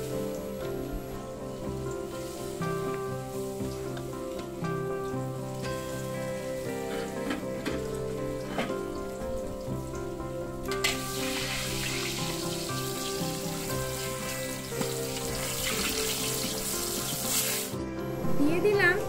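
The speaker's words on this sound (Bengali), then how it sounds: "পাশের কড়াইতে আমি পকোড়াগুলো ছাড়ছি।" Pakoras fry in hot oil in a kadai while a curd-based katla fish curry cooks nearby. A continuous bubbling sizzle swells louder in the second half, with occasional light metallic clinks.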